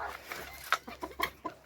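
Hens in a poultry enclosure give a short run of close, quick clucks, about half a dozen clipped calls in a loose rhythm, moderately loud with no talk.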